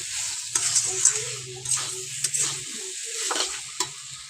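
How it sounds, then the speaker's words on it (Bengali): Mutton is stir-fried with pre-fried potatoes for a red gravy curry. A spatula scrapes and knocks against the pan in irregular strokes over a soft sizzle, close and moderately loud, with no talking. "সেই আলুটা দিয়ে দেবো। দিয়ে ভালো করে কষিয়ে নেব।"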